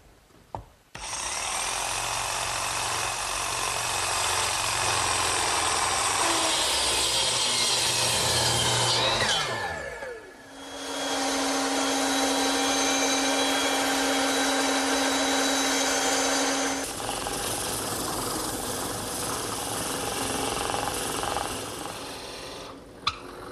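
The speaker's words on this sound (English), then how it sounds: "Now I'm going to clamp it in my bench vise and cut out the rest of the inside with the jigsaw." A jigsaw cuts through oak clamped in a bench vise: loud, continuous buzzing saw noise in two long passes with a short pause between them, close and without talk.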